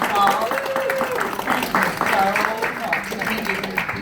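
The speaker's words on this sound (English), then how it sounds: "y'all give her a round of applause." Applause for a woman who has just shared her story at an event, with clapping mixed under voices talking, and the clapping fading and returning in uneven waves.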